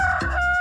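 A rooster crows in one short, sharp burst, loud and close, with no voices.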